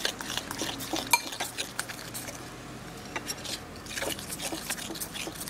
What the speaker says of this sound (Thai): หนูเอาช้อนมาเกลี่ยลง